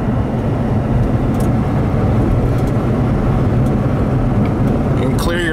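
A Ford 6.7L diesel truck drives steadily at about 55 mph with a loud, continuous low engine and road rumble heard from inside the cab.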